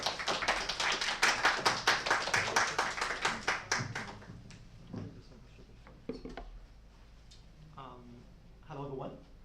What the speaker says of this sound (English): Please give a round of applause to welcome Mr.